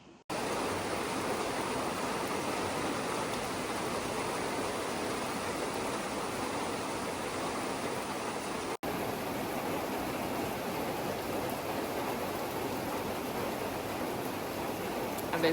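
Steady rain falls outdoors along a hiking trail, a continuous close, even hiss with no distinct drops standing out, lasting the whole stretch with only a brief break partway through.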